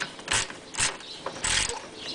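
A ratchet working a 9mm nut loose under a 2011-or-later Ford Mustang GT during an oil change. Three or four short clicking bursts sound close by, with brief pauses between strokes.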